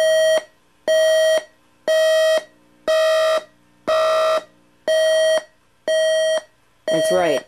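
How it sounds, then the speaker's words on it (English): A GE 7-4628B clock radio's electronic alarm beeps in a steady rhythm, eight loud pulses about a second apart, the last one wavering in pitch. "It's a volume adjustable alarm."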